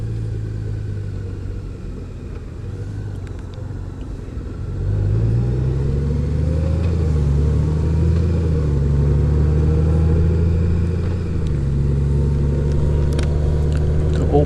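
A 2018 Honda Goldwing DCT rides along with a loud, steady engine and road rumble that swells and deepens partway through as it pulls away and accelerates, with wind noise throughout.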